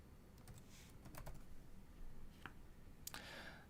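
Typing on a computer keyboard, faint, scattered clicks and short bursts of keystrokes at a distance over a low background hum, with no voices.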